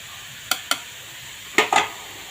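Beef stir-frying in a pan, four sharp scraping strokes of a spatula, two close together and then two more after a pause, over a soft, constant sizzle. No voices.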